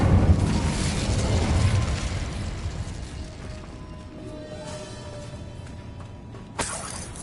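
An Incendio fire spell cast in Hogwarts Legacy, a loud crackling whoosh bursting at the start and fading into a lingering rumble, with a sharp clank near the end.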